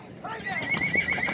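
Horse neighing at a livestock and horse market in Osh, a three-year-old horse used in ulak games; a clear whinny with rising and falling tones, close and fairly loud over market chatter, with faint hoof clops.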